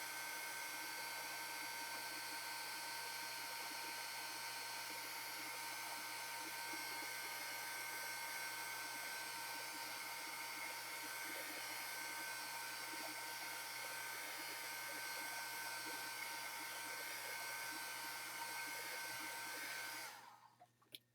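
A hair dryer blows steadily on artwork being dried, a loud continuous whirring drone that runs unbroken for about twenty seconds before cutting off abruptly near the end.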